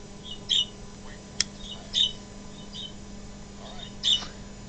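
A pet bird, a little female, squawks sharply three times at intervals of roughly a second and a half to two seconds, loud and close, with a quick click early on.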